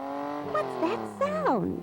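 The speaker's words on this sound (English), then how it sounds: "That sound is a car." A car drives past with a smooth engine hum that rises and falls as it revs, heard under a child's and an adult's talking and fairly close.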